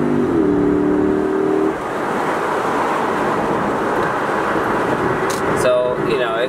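A Lexus SC430 fitted with an Injen short ram intake, its engine droning loudly and steadily with a rising tonal rev early on, then settling into a broad roar with brief higher whines near the end.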